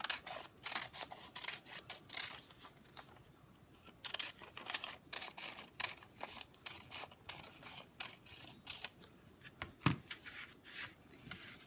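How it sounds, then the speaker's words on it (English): Scissors snip through paper strips in quick, repeated close cuts, a steady series of crisp snips while strips are cut all the way across for a paper weave. "Actually, I'm gonna cut all the way across."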